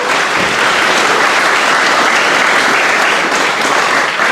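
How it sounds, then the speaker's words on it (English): Sustained applause from an audience at an 80th anniversary commemoration of the sinking of the John D. Gill, honouring the Brunswick Bellows singers; dense, steady, loud clapping throughout with no voices. "I'd like to give a round of applause for the Brunswick Bellows"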